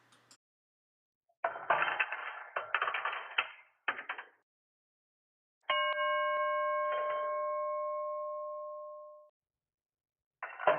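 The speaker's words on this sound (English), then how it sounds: "A dime passing through its chute will strike the gong twice, once on its upper edge and once on its lower edge." A coiled gong of spring-tensioned hardened steel inside a three-slot payphone is struck by dropping coins, giving a clear metallic ring that sustains and slowly fades, between bursts of clattering mechanism noise.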